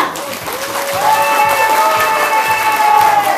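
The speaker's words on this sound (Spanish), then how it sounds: "Démosle un fuerte aplauso a Estrellita." Loud, steady applause and cheering from a crowd at a Sunday karaoke contest at a flea market, with whoops over it and a tonal tune running underneath.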